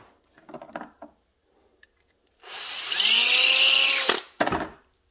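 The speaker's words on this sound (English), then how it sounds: "Got the adapter to put it in a drill." A power drill spins a deburring tool fitted through an adapter for reloading brass. After a few small clicks, the motor whirs loudly and steadily for about two seconds, then winds down, followed by a short rattle.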